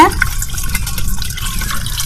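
Fish amino liquid fertilizer being stirred into water makes a steady sloshing, splashing swirl, close and fairly loud, with a few brief drips on top and no speech.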